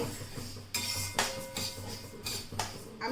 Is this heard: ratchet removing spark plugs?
no